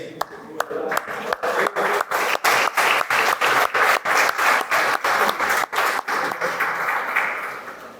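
A church congregation applauds steadily for about eight seconds, a dense wash of clapping punctuated by sharp, regularly spaced loud claps that give it a rhythmic beat, fairly close and without speech.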